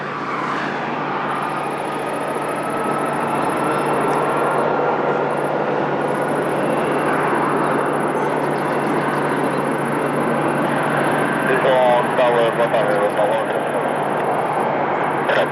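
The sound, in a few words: airplane taking off at Lisbon Airport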